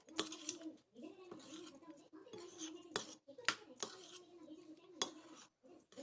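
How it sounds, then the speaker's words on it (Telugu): A metal ladle stirring hot tamarind rice (pulihora) mixed with fried cashews and peanuts in a pot, giving repeated clinks and scrapes at an uneven rhythm beneath a continuous voice. "ఇక్కడ గొజ్జు వేడిగా ఉంది కాబట్టి నేను గరిటెతో కలబెడుతున్నాను"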